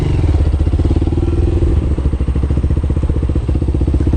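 A learner motorcycle during CBT training pulls away on a slight uphill, its engine loud and close, revving with a rapid chugging pulse and rattling clatter as it moves off.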